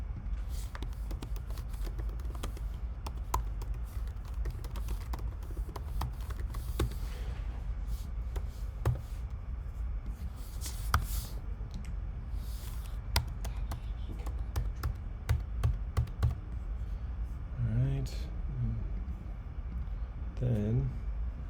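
Fingers typing on a computer keyboard while filling in a sales prospect's contact details, giving close, fast, irregular clicking throughout, with a voice speaking briefly near the end.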